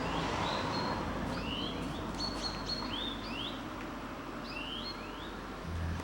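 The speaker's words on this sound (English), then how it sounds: "Those are real birds and not bird sounds." Real birds sing in a quiet park in Oslo, Norway, with several clear, high chirps and short whistled phrases scattered over a soft, steady outdoor hum.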